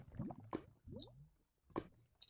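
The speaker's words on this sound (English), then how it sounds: "dump out at least one of these buckets of water" Squishy, gurgling water splashes and drips in short bursts as buckets of water are emptied in modded Minecraft (Tekkit Lite). The sounds are quiet and sparse, about three quick splashes with short pauses between them.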